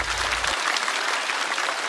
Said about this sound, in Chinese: 掌声送给小帕。